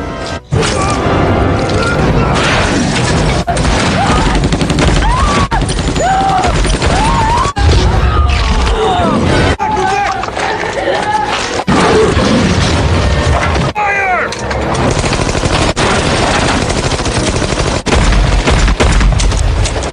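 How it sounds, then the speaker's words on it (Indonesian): Gunfire sprays a psychopath's house in the 2013 horror film Hatchet III, with loud, dense bursts and booming impacts under a dramatic soundtrack and shouting throughout. "Setelah memberondong beberapa peluru ke rumahnya psikopat"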